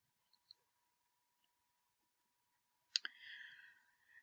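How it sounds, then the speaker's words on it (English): A computer mouse gives a sharp, close click with a faint clatter after it, against near silence with two tiny ticks earlier. "So we're going to come up and click on the plus sign."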